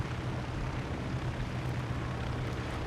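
A wooden starter propeller plane flies in War Thunder, its engine a steady, dense low drone that fills the whole stretch with no breaks and no talk.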